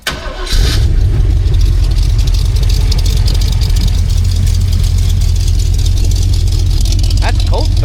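A cammed C10 Squarebody pickup engine with a Holley carburetor cold-starts after a brief crank, then settles into a loud, steady, lopey idle with a rumbling low end.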